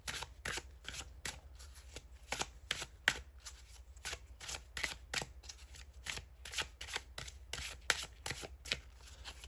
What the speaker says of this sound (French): Bon, ça brasse très, très bien.